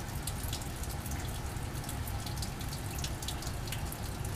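Water splashes and trickles steadily and close by into a Grignard reaction during quenching, a continuous wet pouring sound with scattered drips.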